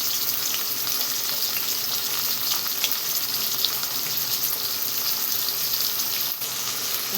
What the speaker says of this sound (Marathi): तर बघू शकता असं मस्त मी कांदा फ्राय करून घेणार आहे